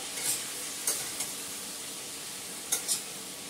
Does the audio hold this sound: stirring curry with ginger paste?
yes